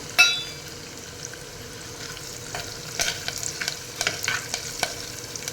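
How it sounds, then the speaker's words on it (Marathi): Curry leaves and dried red chillies crackle and sizzle in hot oil in a clay pot, with sharp spattering pops that thicken toward the end over a low steady hiss. "आता हिरव्या सॉरी कढीपत्ता आणि लाल सुक्या मिरच्या याच्यात घालूया"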